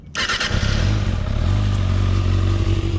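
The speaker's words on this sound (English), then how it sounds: "So we're gonna go ahead and turn on the bike real quick." A motorcycle engine catches at once and settles into a steady, loud idle, with a low throbbing rumble running close by and no talking over it.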